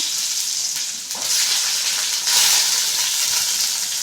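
Chopped onions and mustard seeds fry in about a litre of hot oil, a loud close crackling sizzle with a sharp burst partway through, spitting steadily with no voices.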